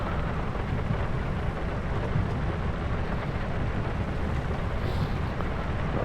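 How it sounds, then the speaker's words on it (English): Heavy rain pours down in the Farming Simulator 25 video game, a dense, steady roar of broadband patter with low rumbling underneath, constant and close throughout, with no voices. "That rain's really coming down."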